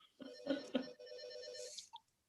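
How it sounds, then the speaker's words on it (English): A telephone rings during a public board of adjustment meeting, two or three close electronic ring bursts with a steady tone between them, fairly loud and with no talk over it. "don't record the phone calls"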